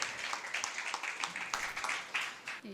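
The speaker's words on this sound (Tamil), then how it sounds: "அவரை பலத்த கைத்தட்டலோடு வரவேற்போம்" Applause for a poet taking the stage at a Tamil church gathering, a fairly faint, steady patter of clapping from the audience lasting under three seconds, with some murmuring mixed in.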